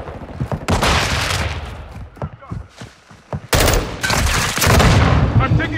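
Automatic gunfire in the Call of Duty Modern Warfare 2 video game during a team deathmatch, with loud sustained bursts, short pauses and scattered single shots, a quieter stretch in the middle, then dense rapid firing to the end.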